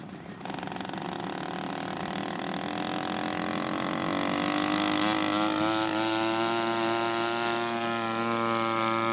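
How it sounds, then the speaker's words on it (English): A scale model P-47 Thunderbolt's piston engine runs steadily as the plane taxis into position, a continuous buzzing drone that rises slightly in pitch partway through, heard from close by on an outdoor airfield. "Dennis Crooks taxiing in position for his last flight on Sunday morning"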